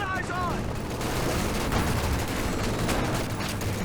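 Dense, continuous gunfire in a World War II strategy game, an MG42 machine gun laying down suppressing fire amid battle noise, steady and loud across the whole stretch with a voice talking over it.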